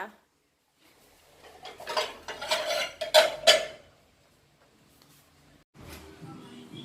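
Stir-fried squid with holy basil is scooped from a pan onto a plate, with scraping and clinking of utensil against metal in short bursts, followed by quiet and a brief low rustle near the end.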